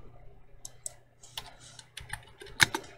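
A password is typed on a computer keyboard in a short, uneven burst of close, crisp key clicks, ending with a sharper keystroke, with no talking.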